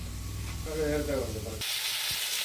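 Pork sautéing in a pan for an Alappuzha-style pork fry: a steady sizzle and hiss that grows brighter and louder partway through, with a person speaking over the cooking.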